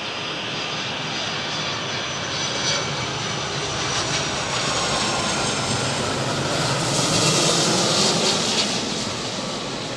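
Engines of a 34-year-old airliner at Manchester Airport give a loud, steady jet roar that builds slightly toward the end, heard near and alone with no voices.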